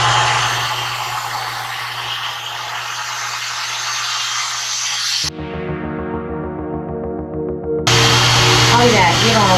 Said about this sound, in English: this is just styled with the dryer